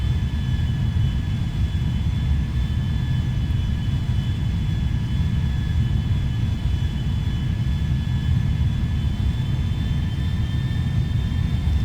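Boeing 777-300ER jet taxiing in a GTA V mod, a steady loud engine roar and rumble with a thin high whine held throughout, unchanging and continuous, with no talking.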